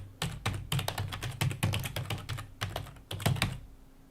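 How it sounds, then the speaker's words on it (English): Rapid typing on a computer keyboard, a close run of crisp, irregular key clicks in quick bursts with brief pauses, no voices. "I just type in Python"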